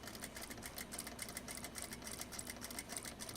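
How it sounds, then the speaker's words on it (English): A sewing machine fitted with a skinny presser foot stitches a purse scarf, a rapid, steady mechanical whir with a rhythmic clatter that runs continuously and close up, with no talking over it. "And then sew the rest of the way at a 90-degree angle."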